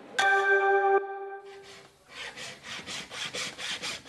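A hand saw cuts through an animal horn in steady back-and-forth strokes, close and fairly loud, after a brief ringing tone at the start; carving tools for the horn include drill, saw, sander and rasp.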